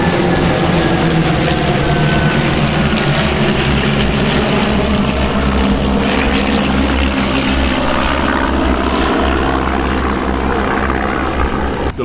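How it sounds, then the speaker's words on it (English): A German-built Extra 300L aerobatic propeller airplane in flight, its engine giving a loud, continuous droning roar that holds steady for the whole stretch with no voices. "So this is a plane built in Germany. It's the Extra 300L."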